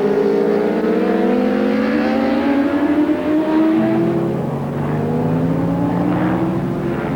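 Superbike motorcycles race at Oran Park in 1989, their engines roaring loudly and continuously with rising and falling revs as several bikes pass close together.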